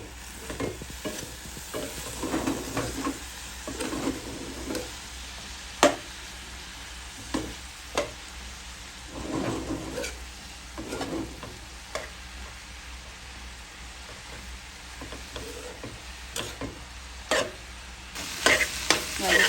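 Shredded cabbage is stir-fried in a pan for a Bengali bhaji, a soft continuous sizzle broken by repeated scraping and stirring strokes of a spatula, close and steady without speech.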